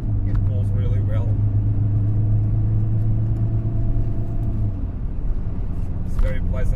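An Alfa Romeo 155 with a 1.9 turbo diesel engine hums in a low, steady drone from inside the car while someone talks over it.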